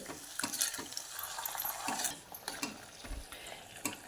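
A spoon stirs homemade ayurvedic hair oil with aloe vera gel and a little flaxseed in a pan, making a steady soft sizzle under repeated close scraping and clinking strokes.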